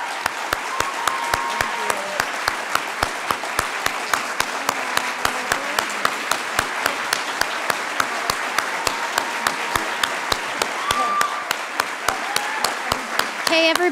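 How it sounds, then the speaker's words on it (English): A summit audience breaks into sustained applause, a dense, even wash of many hands clapping that carries on throughout with some voices mixed in. "let's give one more round of applause for"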